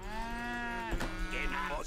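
Cattle moo in the video game Age of Empires III, with one long, drawn-out low call followed by a shorter one, heard over steady game ambience.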